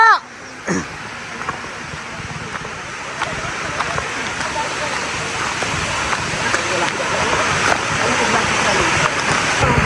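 River water rushes steadily over rocks in a continuous close wash that grows slightly louder, with a couple of brief knocks near the start.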